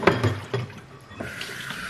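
Tap water runs into a dog's water container, with a few splashy bursts at the start, then a steadier, thinner filling stream close by.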